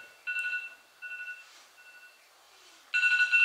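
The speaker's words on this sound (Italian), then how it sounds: "Io che cerco il cellulare per spegnere la sveglia." A mobile phone alarm rings in short bursts of bright electronic beeping tones, stopping and restarting with gaps between them, fairly faint and with no talking.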